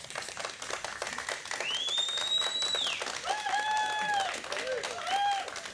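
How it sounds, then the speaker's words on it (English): Student audience at a televised high school quiz competition applauds and cheers after the score recap, with steady clapping and high whoops and shouts rising over it. "Lots of cheering."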